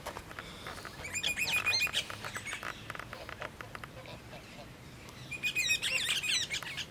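Geese honk and chatter close by in two bursts, with a quieter stretch between them over steady outdoor background noise.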